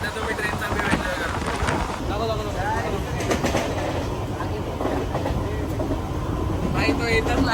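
A train runs along the rails with a continuous rumbling roar, rhythmic clatter and gusts of wind buffeting the microphone from onboard, while people talk now and then underneath.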